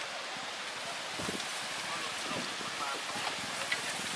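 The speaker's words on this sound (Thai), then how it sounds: "ฝนถล่มเข้ามา นี่ครับได้ยินเสียงลมนี่กลายเป็น" Rain and strong wind sweep over Doi Sa Ngo in a storm, a dense, even roar of gusts and pattering drops with faint muffled sounds beneath.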